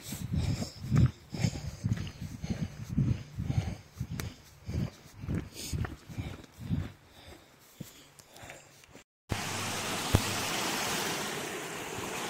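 Footsteps slosh through water while crossing a stream on the Appalachian Trail, a rhythmic run of splashing steps close by, then a sudden cut to steady rushing water.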